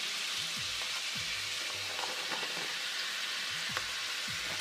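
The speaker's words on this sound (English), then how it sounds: "We're just going to cook these down for a few minutes, saute them, get them a little tender, get them a little translucent, stir it often." Onions and celery sauté in a pot for clam chowder, a soft steady sizzle close by, with faint low tonal hum and light stirring touches, no speech.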